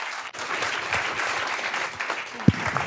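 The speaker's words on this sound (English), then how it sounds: "Please just give Fraidy and Unchained a round of applause" Audience applause at a discussion event on child marriage in America, a steady wash of clapping from a crowd, moderately loud and sustained, with a brief voice or thump near the end.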